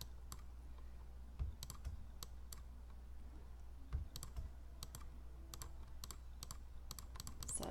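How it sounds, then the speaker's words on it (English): Faint, quiet computer keyboard and mouse clicks sound close by, scattered sharp taps with a couple of slightly louder clicks, alone with no talk. "hold down Control, click"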